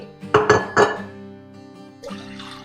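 A metal pan set down onto a stand inside a pressure cooker holding water, two bright ringing metallic clinks close up, followed by a softer scrape and rattle.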